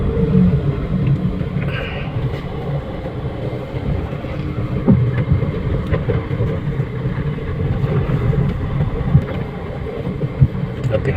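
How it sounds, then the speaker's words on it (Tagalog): A third-generation Toyota Vios with a hard-starting problem idles with a low, steady rumbling engine drone, heard close and continuous, with faint background noise and a couple of small knocks. "Maganda naman yung galit ng makina. Maganda naman pag pinapa-revolution mo"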